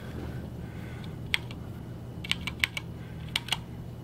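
Computer keyboard keys tapped in short sparse bursts while entering a login and password on a PC, a handful of crisp clicks spaced over a few seconds against a quiet room hum.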